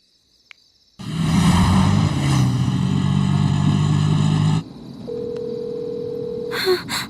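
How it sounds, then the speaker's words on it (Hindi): A loud rushing, engine-like roar cuts off, followed by a steady electronic phone tone and a short burst of ringing beeps. "इतनी रात में किसका फोन आ रहा है?"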